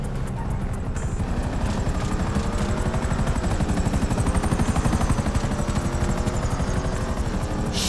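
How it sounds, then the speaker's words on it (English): A helicopter in Grand Theft Auto V thuds loudly with fast, steady rotor chop that fills the whole stretch, close and continuous. A higher engine whine runs over the beating blades. "Another chopper!"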